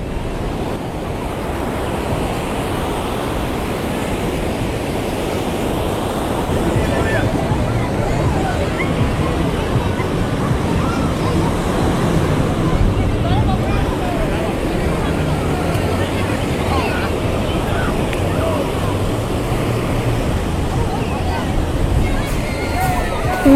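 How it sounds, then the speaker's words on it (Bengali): Big sea waves at Puri beach crash and wash in a continuous loud surf roar with wind buffeting the microphone and a faint babble of bathers and a speaking voice underneath. "পুরীর সমুদ্রে কিন্তু বিশাল বড় বড় ঢেউ হয়"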